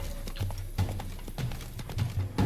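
Horse hooves gallop in The Witcher 3: Blood and Wine. The clip-clop beats are steady and fairly quiet and keep going the whole time with no voices over them.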